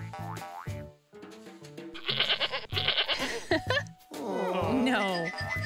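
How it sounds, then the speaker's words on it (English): A goat bleats in a children's toy-themed animated setting, giving wavering, quavering cries mixed with cartoonish sound effects and lively voices. "This is a goat."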